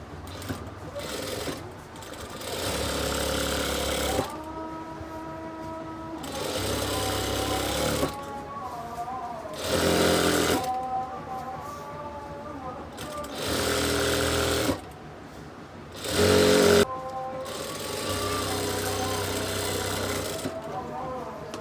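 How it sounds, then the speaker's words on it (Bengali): A sewing machine stitches ladies' salwar pants in several rapid whirring bursts of a few seconds each, close and fairly loud, with pauses between runs in which a person talks. "তারপর এইভাবে উল্টায় এটার উপর দিয়ে আমরা চাপ সেলাই দিব।"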